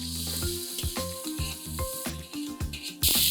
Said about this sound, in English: Now before the butter burns, add 3 onions that are finely chopped.